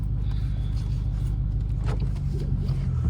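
A Dodge Hellcat running with its hood removed, heard from inside as a deep, steady, close engine rumble that holds constant throughout, with no speech.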